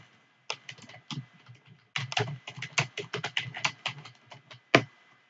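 Someone types an e-mail on a computer keyboard in quick, uneven bursts of close, crisp key clicks, with short pauses between runs and one louder final keystroke.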